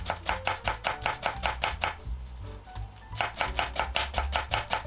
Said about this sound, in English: We'll prepare the shredded cabbage while waiting.